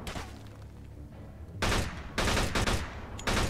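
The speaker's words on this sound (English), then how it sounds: "Look, I can shoot through the bar." Bursts of rapid gunfire from a Mafia II shootout in a bar, with loud repeated shots in dense clusters and brief pauses between volleys.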